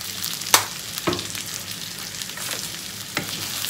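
Spinach soup ingredients are stirred and fried in a pot, with a quiet, soft sizzle broken by a few sharp scrapes and clinks of a utensil against the pot.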